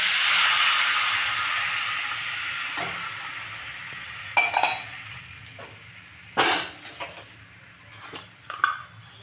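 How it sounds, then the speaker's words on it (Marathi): Water poured into a hot pan of oil tempered with cumin, mustard seeds and turmeric: a loud hiss that fades over several seconds, followed by scattered clinks and scrapes of a utensil against the pan. "आणि ह्याच्यामध्ये आता आपण पाणी टाकणार आहोत"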